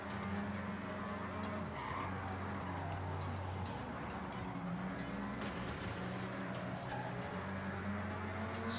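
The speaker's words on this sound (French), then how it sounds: "J'essaie de faire des drifts à droite à gauche" A car drifts through Tokyo City streets in Forza Horizon 6, its engine droning steadily for the whole stretch while tires squeal and skid at intervals, with a voice talking faintly underneath.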